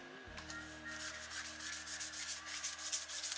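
Mod Podge brushed over a paper collage on a junk journal cover, giving a steady soft rubbing, swishing scrape that runs close and continuous with a faint background hum.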